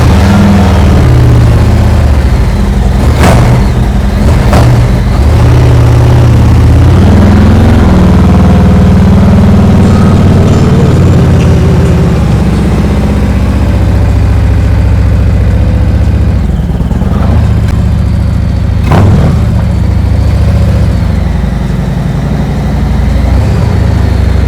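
A motorcycle engine runs loud and close in a garage while the bike is moved out and back in, a steady heavy idle with a few sharp revs and clunks, no talk.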